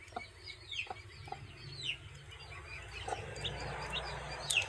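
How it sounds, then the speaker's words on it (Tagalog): A hen clucks in short, scattered calls close by, mixed with the high peeps of newly hatched chicks, part of a flock that grew from seven chickens, with a steady low background hum throughout. "May sisiw na to eh."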